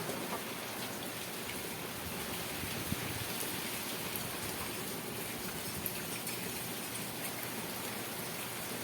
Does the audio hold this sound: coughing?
no